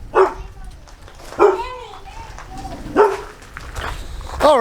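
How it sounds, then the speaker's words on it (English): A guard dog barks at trespassers in short bursts about every second and a half, loud and close, with a person's voice in the background between the barks. "Look at Thor being a good guard dog."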